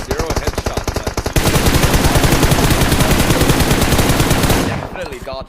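Rapid automatic gunfire from an esports shooter match, loud and continuous. Bursts with short gaps give way to an unbroken stream of shots that fades out near the end.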